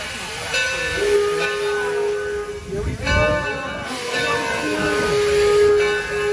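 Steady hissing steam with a sustained whistle tone running through it, a steam locomotive sound that stays loud and continuous throughout.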